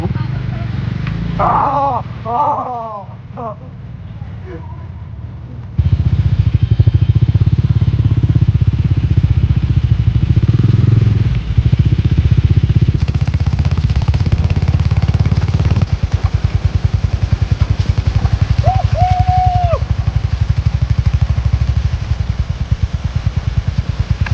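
A motorcycle ridden over a rough off-road stretch of Anini road in Arunachal Pradesh, its engine a steady loud drone with rattling and clatter from the bumpy track, continuous throughout and close to the rider.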